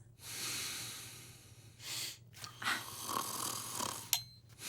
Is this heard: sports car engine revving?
no